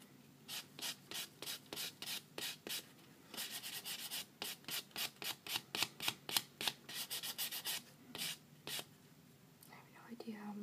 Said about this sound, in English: It is smoothing the nail.